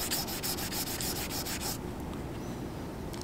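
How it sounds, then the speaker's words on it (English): Fine 400-grit sandpaper lightly abrades a metal beam during strain gauge surface preparation, a close run of quick rhythmic scrubbing strokes for about two seconds, then the rubbing stops and only faint room hiss remains. "take some of the 400 grit, and we're going to lightly abrade 10 or 12 strokes"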